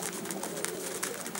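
Outzidika pigeons in Karditsa give faint, low cooing in a short stretch, soft and somewhat distant, with light clicking and shuffling and no voices.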